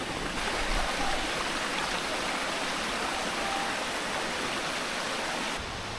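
Papaya River on Tarak Ridge in Bataan flows past in a steady, full rush of water, close and continuous, with no voices over it.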